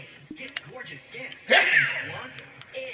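A single sharp sneeze bursts out loudly near the middle, set among softer background talk and small mouth noises.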